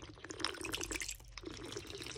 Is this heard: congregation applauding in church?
no